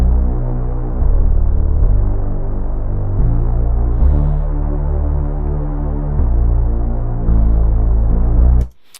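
A thick, buzzy layered synthesizer sub bass made in Bitwig plays a slow sequence of sustained low notes, rich in overtones, steady and loud, ending abruptly.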